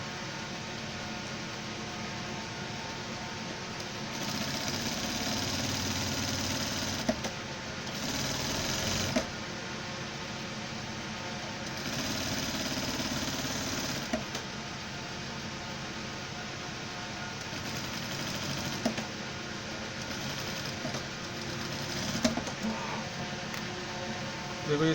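Sewing machine stitching a pant leg, a fast continuous whirring drone running in several long bursts with brief pauses between, close and steady throughout.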